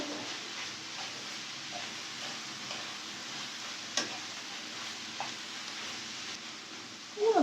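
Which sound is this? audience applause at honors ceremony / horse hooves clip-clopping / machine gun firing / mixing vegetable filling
mixing vegetable filling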